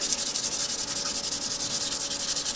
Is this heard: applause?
no